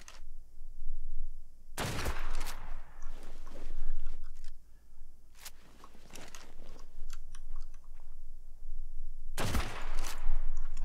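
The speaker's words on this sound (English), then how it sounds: "Let's try and shoot him off his Giga." Two loud, sharp bursts of gunfire from the video game Ark: Survival, during an official-server PvP fight, are separated by quieter crunching and rustling game sounds.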